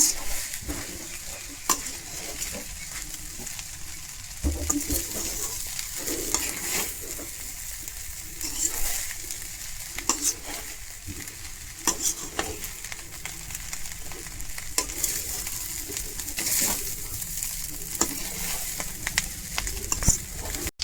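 Chutney is stirred through vegetable biryani in a pot over the flame: a continuous low sizzle under repeated scraping and stirring strokes of a spoon, steady for about twenty seconds with no speech.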